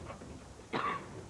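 A single short, sharp cough from one person sounds over a quiet background, part of a NyQuil cough medicine advertisement.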